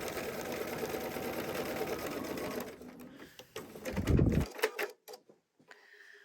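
A sewing machine stitches a seam on crossbody bag pieces with a steady motorized whir for nearly three seconds, then stops, followed by a few soft handling thumps and bumps.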